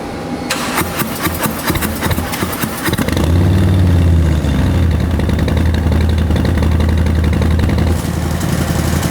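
A custom chopper motorcycle engine cranks and fires up, then settles into a loud, throaty idle with a rise in revs, close by.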